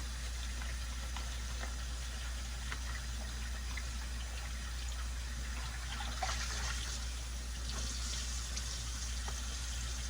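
Tap water runs steadily as shrimp are rinsed, a faint continuous splashing over a constant low hum, with brief brighter splashes as the food moves under the stream.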